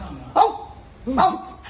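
A person imitates a dog with two short barks, separated by a brief pause.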